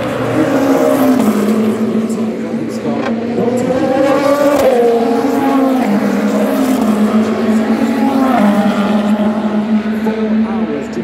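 A race car at Le Mans, running for Ferrari AF Corsa in the 2025 24-hour race, drones loudly as it enters the Dunlop chicane, its engine pitch rising and falling through gear changes under continuous commentary.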